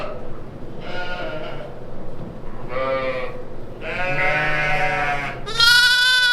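A young lamb bleats several times in a row, close and clear, with each call rising higher and louder in a farm setting.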